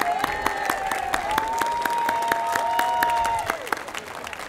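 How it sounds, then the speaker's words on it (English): Spectators at an Armed Forces Day parade in Torrance, California applaud in a steady burst of clapping, with a whistle-like tone sustained above the claps before the applause thins out. "Round of applause for these young ladies."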